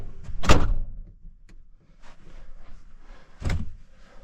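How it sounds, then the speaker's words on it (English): A van's door is shut during cold spring camping, landing as a loud close thump, followed by softer rattles and a second solid thud a few seconds later. "I think I got that door closed."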